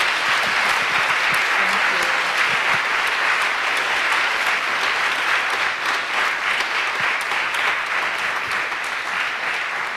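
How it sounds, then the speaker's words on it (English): A room full of people applauding after a talk at the Clinton School, an even, sustained burst of many hands clapping at close range that holds steady throughout with no speech over it. "let's give Cynthia a round of applause here"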